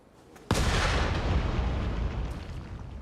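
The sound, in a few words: cannon firing in Nioh 3 video game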